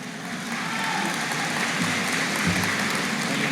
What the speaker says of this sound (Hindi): तालियां कम आ रही देखो आपकी।